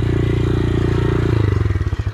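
A motorcycle being pushed into the bushes, with a steady low engine rumble that turns into a pulsing, uneven chug near the end, heard close and loud with no talk.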